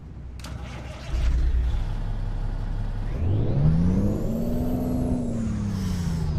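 Cummins-engined Peterbilt 389 truck in American Truck Simulator cranks and fires, then its engine note climbs in a steady rev and settles into a loud idle rumble, with a faint hiss early on.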